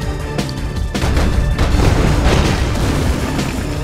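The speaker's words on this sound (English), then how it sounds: "Airborne artillery. Deploying cannon." Artillery cannon fire in the video game Red Alert 2 Yuri's Revenge, a dense, loud run of booming blasts and explosions overlapping in quick succession with no speech.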